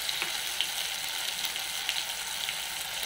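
Cumin seeds sizzle in hot oil over medium heat in a pan of mashed tomato, giving a dense, steady crackling hiss with scattered small pops, close and constant throughout.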